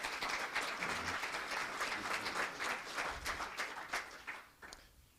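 A conference audience at a college and career pathway summit breaks into sustained applause, dense steady clapping that carries on for several seconds before thinning out near the end.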